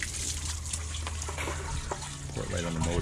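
Water pours from a hose onto the motor of a Pentair Triton II pool filter pump, a steady splashing and trickling wash outdoors, with brief voices in the background.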